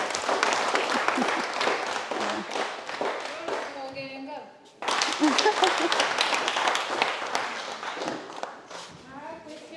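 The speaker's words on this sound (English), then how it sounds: "I was asking them to clap for you." An audience at a business clinic in the Tooro kingdom claps after a presentation, brisk sustained clapping from a room full of people, broken briefly by a voice speaking, then clapping again with voices mixed in.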